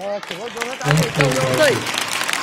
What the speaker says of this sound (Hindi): जोर से ताली हो यार